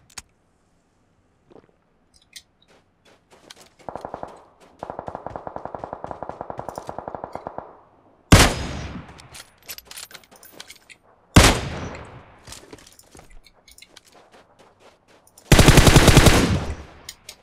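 Automatic gunfire in the video game PUBG Mobile on the Miramar map: several loud, rapid bursts, one long sustained volley and then sharp blasts with decaying tails, heard alone with no talking.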